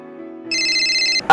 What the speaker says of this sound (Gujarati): આ એકવારમાં તો ફોન ઉપાડતો જ નથી ને.